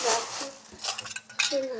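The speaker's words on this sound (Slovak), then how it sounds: "Ja som taká nemotorná, že ja som vysypala riad." Dishes and cutlery clatter and clink as they tumble and spill in a home kitchen, a brief jumble of metallic and ceramic knocks, close and fairly loud.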